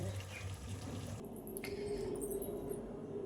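Liquid pouring steadily over a few seconds while cooking egg korma, a continuous rushing splash close by with a slight shift in tone partway through.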